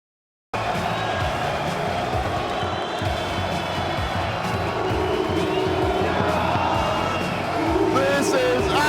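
A packed crowd at a Counter-Strike esports arena for IEM Rio Major 2022 roars and cheers continuously, loud and dense, with a commentator's voice and arena sound mixed in and a swell near the end.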